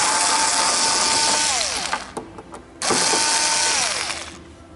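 A bolt is loosened on the fairing of a Citycom 300i scooter with a whirring, ratcheting power tool, heard as two loud, close runs with a brief pause between them.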